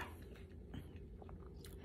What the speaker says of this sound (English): Nice and crunchy. Hear that crunch?